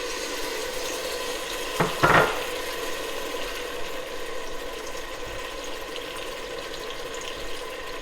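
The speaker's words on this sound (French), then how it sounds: "dans notre casserole, nous allons verser de l'huile. Et je vais verser les légumes que nous avons hachés" Chopped red and yellow peppers and other vegetables frying in oil in a cooking pot for a spinach dish, a steady hissing sizzle with a brief louder burst of crackle as they hit the oil.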